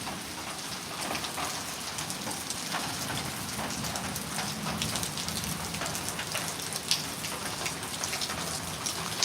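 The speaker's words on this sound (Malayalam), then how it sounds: "ഇത്ര നല്ല ഇടിവെട്ട്, നല്ല കാറ്റ്, നല്ല മഴയാണ്" Steady rain pours during a storm with wind and thunder, a dense even hiss of drops hitting surfaces, continuous and moderately loud with no voices.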